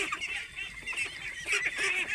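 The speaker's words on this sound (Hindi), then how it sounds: "हमारे यहाँ खाकी कैम्बेल की बत्तख का पालन किया जाता है अंडा पर्पज से" A flock of Khaki Campbell ducks quacking continuously, dense overlapping calls close by with no pauses.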